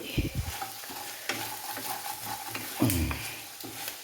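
Pork and koorka frying in a pan while being stirred, soft continuous sizzling broken by a few scraping stirs, close and fairly quiet.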